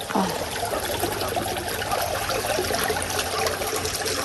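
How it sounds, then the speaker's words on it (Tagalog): Water flowing out of an outlet into a tidal river, a steady broadband trickling rush that runs unbroken and fairly close throughout, with faint voices now and then underneath. "bali yung tubig po doon ay lumalabas"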